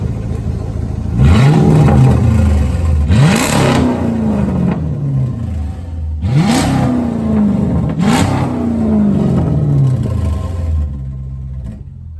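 A 2006 Dodge Magnum with a 5.7 HEMI V8 and its muffler and resonator deleted revs four times in two pairs, each blip a loud rising roar settling back to a rough idle.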